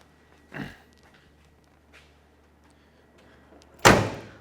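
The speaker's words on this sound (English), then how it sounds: "Dome light illuminates when I open up the driver door." Driver door of a 1969 Chevrolet Camaro Z/28 opening with a short latch clunk, a quiet pause, then a louder solid thud of the door, close and otherwise near silent.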